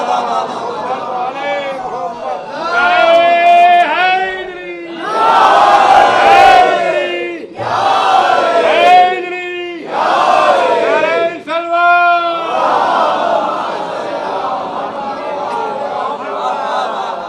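A congregation at a Shia majlis on 17th Safar chants religious slogans in loud unison, repeated rising call-and-response bursts from a large crowd of voices, a few seconds each with brief pauses between.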